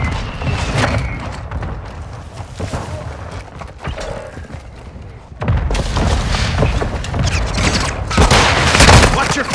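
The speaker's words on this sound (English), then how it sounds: "Friendly mortar strike on the way." Friendly mortar strike in Call of Duty: Modern Warfare II multiplayer, heavy booming impacts landing amid continuous gunfire, growing louder and denser partway through.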